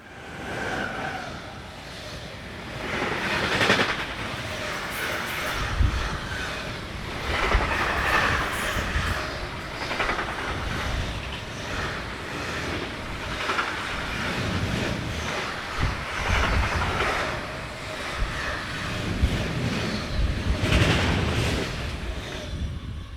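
Freight train from Budapest to Hamburg-Woltershof, hauled by Box Express locomotive 193-612, rolling past in the countryside near Würzburg and Gemünden. A continuous, broad rumble with steady wheel clatter, swelling and easing over twenty-odd seconds.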